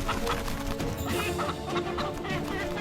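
An Aseel cockerel scuffles close by, with rapid clucking, squawks and wing flapping over a dense, noisy background.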